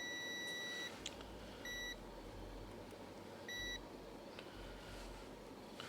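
Multimeter continuity beeps while probing a Hyundai sensor, a few short high-pitched tones in separate bursts over faint background hum, fairly quiet.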